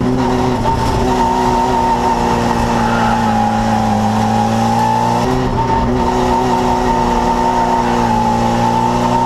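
A VW Gol track car on a racing circuit, its engine droning loud and steady at high revs throughout, with a brief shift in pitch midway as the rear loses grip.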